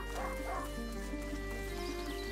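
A hunting dog barks in The De Rune Legacy: A Plague Innocence, short yips and woofs sounding over steady game music and ambience.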